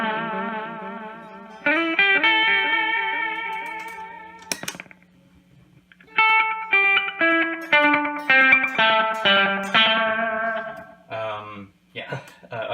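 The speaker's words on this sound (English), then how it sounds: "As you can hear from the plinking of my guitar strings with no sound coming through the amp and then suddenly the echo, it just kills your dry signal" An electric guitar runs through a Toronto City Transit Delay Deluxe pedal set to kill the dry signal, so only the delayed echoes sound; sustained tones give way to rapid, repeating bright plucked notes with ringing repeats, with brief gaps of near silence.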